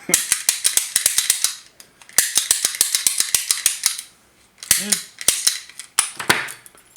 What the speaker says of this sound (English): The way it works is this just clicks up and down. And that bumps against the pins